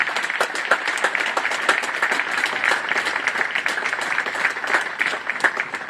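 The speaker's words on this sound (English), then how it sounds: "would you please give another round of applause for all of our trophy winners" An audience at a military platoon march-out parade gives a sustained round of applause for the trophy winners, steady and fairly loud across the whole stretch without any speech.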